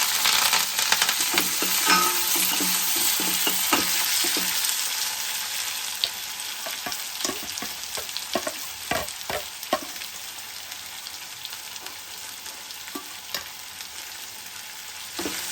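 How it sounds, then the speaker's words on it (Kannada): Onions, green chillies and curry leaves frying in a pan, a steady loud sizzle with frequent scraping stir strokes, busier early on and settling into a softer crackle. "ಕೆಂಪಗಾಗೋವರೆಗೂ ಚೆನ್ನಾಗಿ ಫ್ರೈ ಮಾಡ್ಕೊಳ್ಳಿ."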